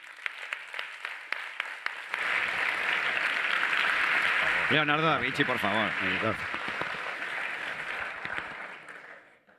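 An audience at a NUKAS Palma comics event breaks into sustained applause for the illustrator Pelopantón, the clapping swelling and holding for several seconds while someone speaks over it.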